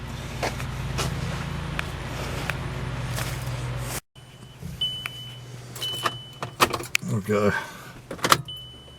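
A Volkswagen Jetta's engine runs with a steady low rumble close by, then cuts off, followed by scattered clicks and handling noises while someone talks.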